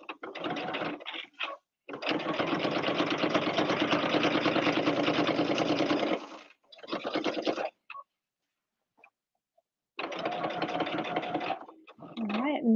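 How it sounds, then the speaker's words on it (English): A sewing machine stitches a seam along the binding of a quilted apron in several bursts of rapid, close needle chatter with a motor whine, separated by short pauses and one long near-silent gap, with a voice briefly near the end. "I'm just going to reverse stitch a couple of stitches at this corner"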